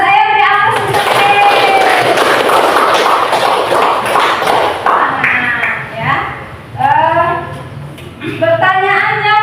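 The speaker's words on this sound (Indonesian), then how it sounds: "saya beri aplaus untuk Ike" A classroom of students applauds during an Islamic studies lesson, a loud burst of clapping mixed with voices that tapers off as speech resumes.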